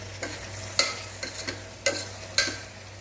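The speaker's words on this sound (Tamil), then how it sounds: "பாருங்கள், தயிர் போட்டு நல்லா கிண்டி விட்டுட்டு" Curd is stirred into vegetable biryani in a pan, with several distinct scraping strokes of a spoon against the pan over a low steady hum and a faint sizzle.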